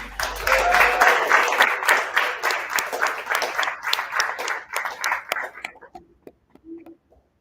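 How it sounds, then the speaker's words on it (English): Audience applause at a community showcase event, a dense burst of many hands clapping that thins into scattered claps and fades out, with voices murmuring underneath. "Give y'all a round of applause."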